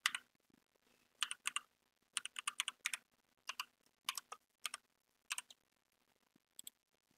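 Bursts of typing on an unfamiliar computer keyboard, quick clusters of close key clicks separated by short pauses, with no talking.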